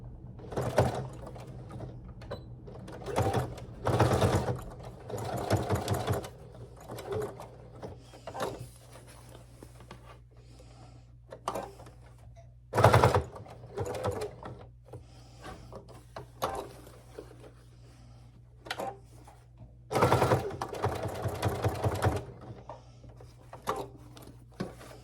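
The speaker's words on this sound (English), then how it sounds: "So I am going about 1/4 of an inch from the edge up to start sewing" A sewing machine stitches a fabric market tote bag in short bursts of fast mechanical whirring, each run separated by pauses with small handling clicks and fabric rustle, close and clear with no speech.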